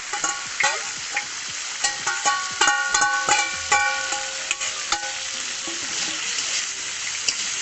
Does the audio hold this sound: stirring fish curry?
yes